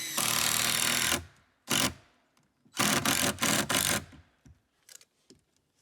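Power driver sinking 3.5 inch screws into wall framing for a winter cabin, a long whining burst followed by several shorter bursts, close and loud, with quiet gaps and small knocks between.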